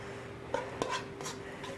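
Cherry tomatoes, bacon and mushroom are tossed into a frying pan, giving a few close clanks and knocks against the metal pan over a low background.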